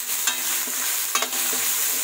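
Tomatoes cooking in a pan with salt and turmeric added, giving a soft steady sizzle broken by a few brief scraping stirs of a spoon against the pan, heard close with no talking.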